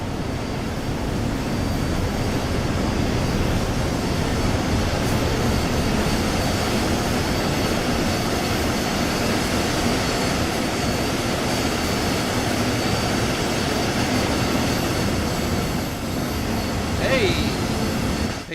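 A British Rail Class 182 train arrives in the Train Sim World 3 simulator, a steady loud rumble of engine and wheel noise that holds throughout with no pause.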